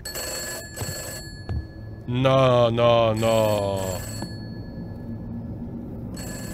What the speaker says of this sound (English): we need to go and answer the phone